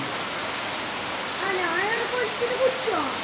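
Steady heavy rain pours down as a dense, continuous hiss, with voices talking over it during the second half.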